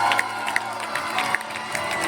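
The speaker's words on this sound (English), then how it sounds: "Let's do a big round of applause for everyone." An audience at an astronomy expo claps and cheers, a brief burst of scattered applause and a few shouts heard indoors at moderate distance.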